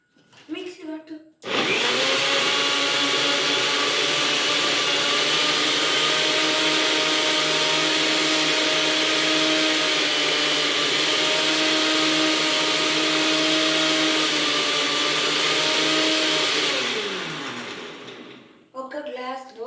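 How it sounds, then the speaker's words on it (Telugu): A kitchen mixer grinder blends chocolates into a chocolate Oreo milkshake: one steady, loud motor whine runs for about sixteen seconds, then winds down as it is switched off, with brief movement noise before and after. "మిక్సీ పట్టు."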